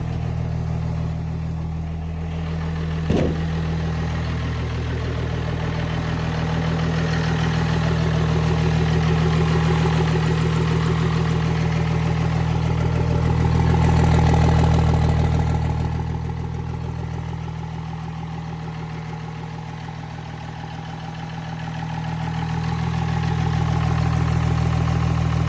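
A truck engine idles steadily outdoors after being brought back up and running, heard from outside the cab as a loud, even low rumble with a slight wavering and a single sharp click early on.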